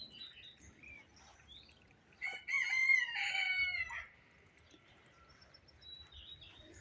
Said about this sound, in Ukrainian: А кури співають